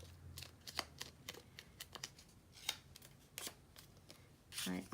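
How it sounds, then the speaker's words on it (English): Paper being folded and creased by hand to make a DIY mini book, crisp rustles and crinkles in quick irregular bursts, close to the microphone, with a louder rustle at the end. "then you just fold that over."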